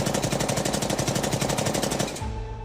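A rapid burst of automatic gunfire rattles steadily for about two seconds, then cuts off into a low lingering hum.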